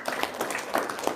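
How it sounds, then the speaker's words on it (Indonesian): Scattered clapping from a small audience during an Indonesian spiritual talk, soft and somewhat distant, a few brief bursts of hand claps with faint background murmur. "Wow, tepuk tangan dong."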